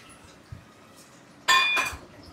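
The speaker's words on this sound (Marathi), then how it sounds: "कारण खूप भांड्यांचा आवाज येत आहे." Kitchen utensils clatter in a home, with a soft knock and then a sudden ringing metallic clang of pots and dishes that quickly fades against a quiet background.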